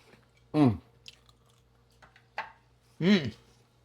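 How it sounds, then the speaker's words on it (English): Two loud, close crunching bites separated by a quieter crackle, with faint background hum. "You hear the crunch?"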